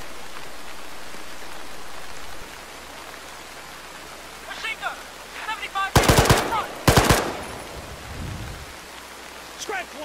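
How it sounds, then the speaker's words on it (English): Two loud, close bursts of machine gun fire ring out in the Arma military video game in Chernarus, after a quiet stretch of rain-like hiss, with brief voices in between. "Machine gun! 75 meters!"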